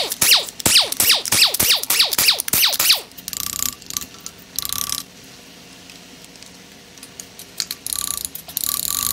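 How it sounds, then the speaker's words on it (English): Rapid ratchet clicks loosen the main cap bolts on a Toyota 4.7L 2UZ V8 during an engine teardown, a loud run of about eight sharp bursts, followed by quieter metallic clinks and tool handling. "let's go ahead and take the main cap bolts out and get the crank out"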